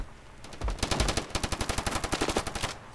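Rapid AK rifle bursts in the mobile shooter Standoff 2 on the Sandstone map, a fast, evenly spaced string of shots building to a steady automatic stream for a couple of seconds, then stopping, with no talking.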